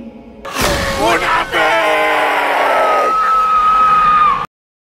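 A woman lets out a long, loud, anguished scream, close and harsh, sustained for several seconds with a shrill wavering pitch before cutting off abruptly.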